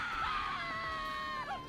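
A shrill scream rings out in the video game XCOM 2: Long War of the Chosen, sustained and wavering over a busy game-sound background, fairly quiet overall.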